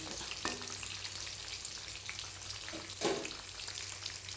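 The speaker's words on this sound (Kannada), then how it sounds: "ಚೆನ್ನಾಗಿ ಗೋಲ್ಡನ್ ಬ್ರೌನ್ ಆಗಿ ಕ್ರಿಸ್ಪ್ ಆಗೋವರೆಗೂ ಫ್ರೈ ಮಾಡ್ಕೋಬೇಕು" Soya chunks deep frying in hot oil over a low to medium flame, a continuous close crackling sizzle with scattered pops and a few louder bursts as pieces are turned.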